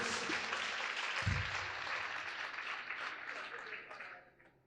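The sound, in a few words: congregation applause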